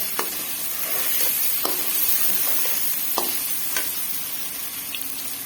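Tomatoes sizzle in a hot frying pan for a karela and keema dish, a steady loud frying hiss with occasional sharp pops and stirring clicks.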